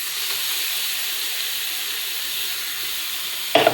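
Spice paste sizzles steadily in a hot pan, a continuous close hiss lasting several seconds, ending with a few brief clattering knocks.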